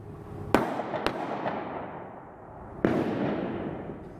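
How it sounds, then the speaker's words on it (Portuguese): Two loud sharp bangs ring out with echoing decay, followed by a fainter pop, then another loud crack trailing off into reverberation. "Segundos depois, o homem escuta tiros disparados por outra pessoa."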